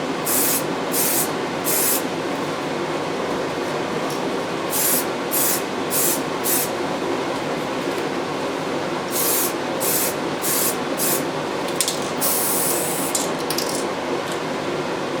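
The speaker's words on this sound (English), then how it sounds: "shake the can really well and then just a few coats of" Aerosol spray paint from a rattle can hisses in short, repeated bursts over a steady background, applying light coats to a Lexan RC truck body; fairly faint with no talking.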